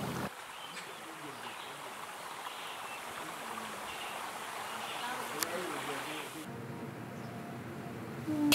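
Sea water washing along a shore, a steady broadband wash and trickle that holds at a fairly even level throughout, heard alone without talk.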